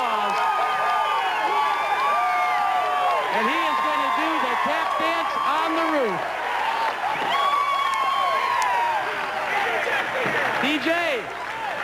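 A huge crowd of about 300,000 at the Brickyard 400 race at Indianapolis Motor Speedway cheers and applauds in a dense, sustained roar while an announcer talks over it.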